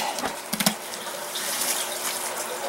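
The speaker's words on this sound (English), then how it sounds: "I can already see water running out." Water from a hydroponic grower container drains out in a steady splashing trickle, close and moderately quiet, with a few brief knocks of handling near the start.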